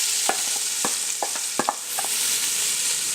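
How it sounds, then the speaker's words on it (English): Chopped onions sizzle in a hot stew pot with browned beef, a steady frying hiss punctuated by several scraping stirs and clicks from close by, with no voices. "I'm now adding our 2 medium chopped onions."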